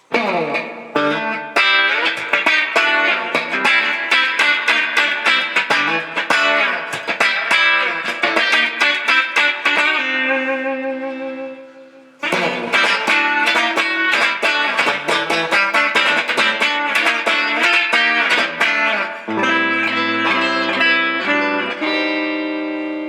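Harley Benton MadCat electric guitar, a hot-rodded Telecaster-style model, played on its bridge pickup through distortion and effects: loud driven chords and riffs, a short pause, then more strumming ending on sustained notes, with no talking.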